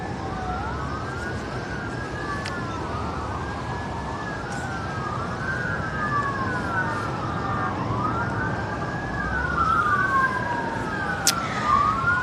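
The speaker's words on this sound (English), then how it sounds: "Y'all hear these sirens?" Several emergency vehicle sirens wail outside, their rising and falling tones overlapping in repeated sweeps, moderately distant and steady over a low rumble of traffic.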